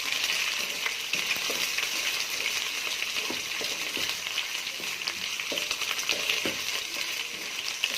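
Potatoes fry in a pan with a steady, moderate sizzle, and occasional soft knocks of stirring run through it.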